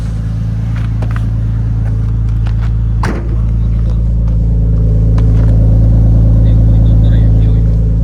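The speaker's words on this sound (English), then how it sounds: "It has some gas, so I'm able to rev it." A 1999 Nissan Skyline GTT with a GTR-style front, its engine idling in a loud, steady low rumble, with a brief thump midway and a slight rise in revs toward the end.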